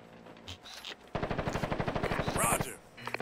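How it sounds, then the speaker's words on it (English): Rapid automatic gunfire in the video game Ghost Recon Advanced Warfighter 2, a loud sustained burst of evenly spaced shots lasting about a second and a half, with shouted voices around it. "Weapons free! Fire!"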